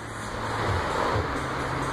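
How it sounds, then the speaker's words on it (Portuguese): A car being driven a short way into the sun at a vinyl-wrap removal shop, a low steady engine hum with faint road noise, close and continuous without voices. "Então eu vou voltar o carro no sol lá."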